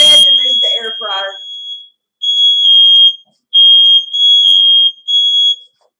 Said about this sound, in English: Our smoke detectors are so stinking sensitive that it doesn't take much.